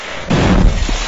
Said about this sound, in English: Those were some grenades.